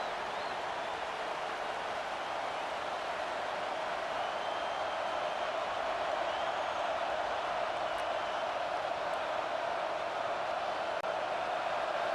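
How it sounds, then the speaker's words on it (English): Steady, distant roar of a stadium crowd in EA Sports College Football 25, a constant wash of cheering noise holding at an even level throughout. "Decibels rising as the crowd gets behind this defense on 3rd down."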